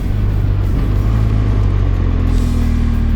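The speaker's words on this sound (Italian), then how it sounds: "Questa moto dispone anche del cambio elettronico, vi faccio sentire come funziona a salire" A 2016 BMW R1200GS motorcycle engine rumbles close by as it accelerates. The pitch steps up and drops back through quick clutchless upshifts made with the electronic quickshifter, against steady wind roar and no voices.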